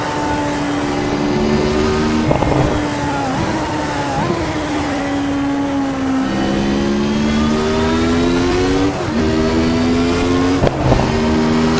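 Lotus 107 Formula One car from 1992 in the Assetto Corsa racing game, its engine loud and near, climbing and falling in pitch through repeated gear changes with throttle blips, a continuous high-revving howl with no talking.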